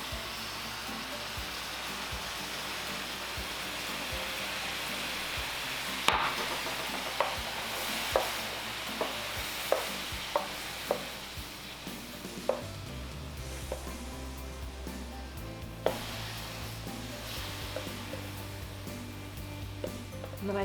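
Food sizzling and caramelizing in a hot pan with coconut aminos, a steady frying hiss with occasional sharp clicks and taps of a utensil against the pan.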